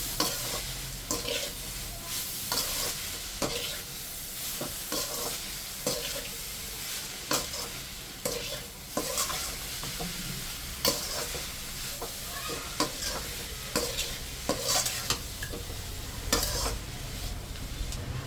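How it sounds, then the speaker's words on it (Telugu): Mango pachadi stirred in a pan over heat, with a steady sizzle of frying and repeated scraping strokes of a spoon against the pan, close and continuous without any talk. "దీన్ని మొత్తం ఇలా నేను మిక్స్ చేస్తున్నాను"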